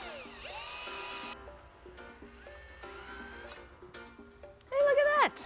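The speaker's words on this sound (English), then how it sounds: "we're going to draw the reamer through these holes" A drill-driven reamer is drawn through pre-drilled holes in Kitfox aircraft kit parts, giving a steady, close motor whine with rising pitch that stops and restarts a few times, ending in a louder burst.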